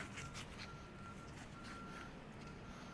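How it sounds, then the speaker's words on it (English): A bus reversing next door gives off a steady, repeating backup beep, faint and distant beneath a constant low background rumble. "Sounds like a bus next door backing up."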